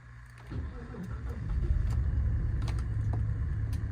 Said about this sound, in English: I'll start it up quickly for you so you can hear the engine.